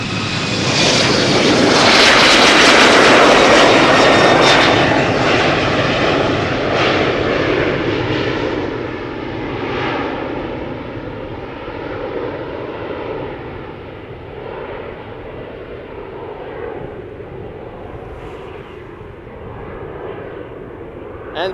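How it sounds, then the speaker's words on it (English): LOT Embraer 195 jet airliner departing Schiphol Airport for Warsaw, a loud engine roar peaking early and then slowly fading into the distance, with some talk faintly beneath. "Lot flight 266, regular Embraer 195."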